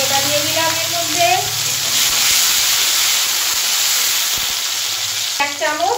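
Chopped medium tomato hits hot oil in a frying pan for egg posto, giving a loud, steady hissing sizzle that fills the moment, with a voice talking briefly at the start and end.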